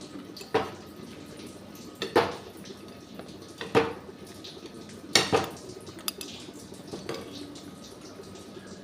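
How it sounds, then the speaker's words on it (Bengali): A ladle stirring partly boiled lentils in a pot, giving several distinct clanks and scrapes against the metal at irregular intervals over a quiet watery bubbling, close by and with no one speaking. "এরপরে একটু হাতা দিয়ে ভালো করে নাড়বো।"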